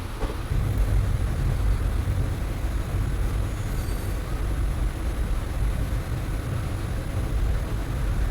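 A passenger train pulling away from Karaikal on the Mayiladuthurai–Velankanni route, with a steady loud rumble of wheels on rails and a faint high squeal, heard from inside the carriage with no talk.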